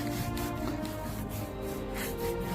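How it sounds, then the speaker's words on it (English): Gator hide brush rubbing and blending paint across a surface, a steady close scratchy brushing that continues without pause and with no talking. "Get my gator hide brush again and just blend it out."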